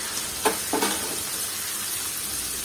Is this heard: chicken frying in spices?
yes